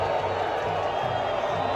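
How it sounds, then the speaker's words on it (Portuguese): Stadium crowd after a football match in which Paysandu lost to Amazonas, a dense sustained roar of booing and shouting from the stands, loud and continuous throughout. "Termina o jogo e olha a vaia."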